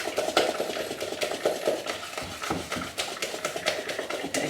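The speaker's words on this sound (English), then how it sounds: "Mix it all up together." Mashed banana muffin batter being stirred in a bowl: a steady run of close scraping and tapping of a utensil against the bowl, with soft, wet mixing texture and no talk.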